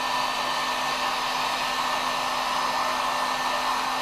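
A heat blower melts homemade bow string wax with pine tar, a steady, loud, unbroken whoosh of blowing air with a faint hum, close and constant throughout.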